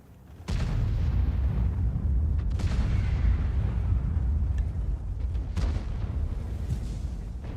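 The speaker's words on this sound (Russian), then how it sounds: "Бабаха выстрелил, походу." A tank cannon fires with a sharp boom in the World of Tanks video game, followed by a sustained low engine rumble and a few more distant blasts, loud and steady with no talk.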